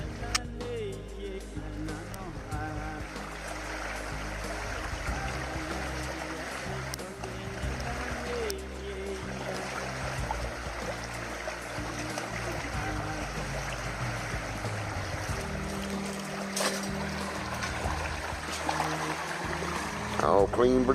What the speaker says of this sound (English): I'll help you with that final rinse there